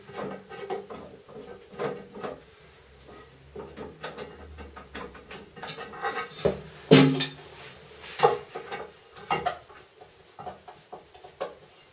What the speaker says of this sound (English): Remove the screws that secure the cistern.